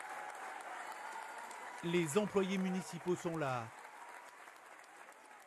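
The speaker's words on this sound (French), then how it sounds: "De longues minutes d'applaudissements" Crowd applause for Alain Juppé's return to Bordeaux, with municipal staff lining a guard of honour: a continuous wash of clapping runs throughout while someone speaks briefly over it in the middle.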